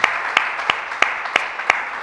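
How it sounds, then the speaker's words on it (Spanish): Applause from a church congregation, with a steady wash of clapping and sharper, evenly spaced claps standing out about three times per second. "¿Le puedo dar un aplauso a Dios?"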